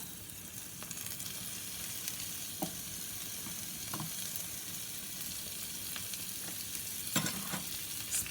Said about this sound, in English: Toss in my pole beans and the collard greens that I had blended.